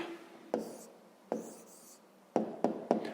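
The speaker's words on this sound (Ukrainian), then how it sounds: "Ну що ж, записуємо відповідь." A pen writes out a fifth-grade math answer on paper, with several quick close scratchy strokes that come in short bursts with pauses between, clear and unaccompanied.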